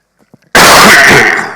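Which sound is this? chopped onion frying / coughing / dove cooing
coughing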